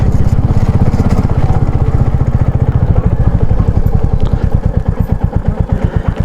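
A motorcycle engine thumps loudly and close in a steady, rapid pulsing rhythm, as if idling or riding slowly near a roadside stop in the high mountains around Kaza.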